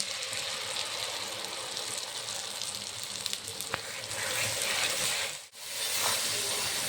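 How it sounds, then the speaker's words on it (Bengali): Steady frying sizzle of ground cashew, poppy seed and chilli paste in hot oil, a continuous crackling hiss with no voices, briefly dipping near the end. "পোস্ত কাজু বাদামটা ভালো করে ভেজে নেব।"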